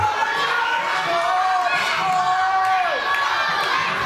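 Wrestling crowd at a W3L Wrestling Showdown cheering on a wrestler, a steady roar of shouting and whistling voices, including children, sustained and loud throughout, with a commentator speaking over it.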